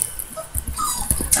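A small black puppy whimpers in a few thin, high, short whines close by, with soft rustling underneath and no talk.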